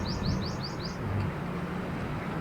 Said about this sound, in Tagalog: May humuhuning ibon.